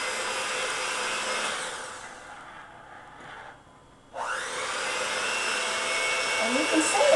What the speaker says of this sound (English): Now we're going to put it on our mixer, and we're going to mix it.